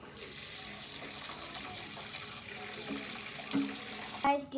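Brown rice being rinsed under running tap water, a steady wash of water with occasional louder splashes and clinks near the end.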